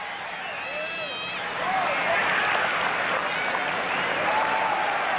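A cricket crowd at a one-day international between India and South Africa bursts into broad applause that swells midway and holds steady, with a commentator talking over it.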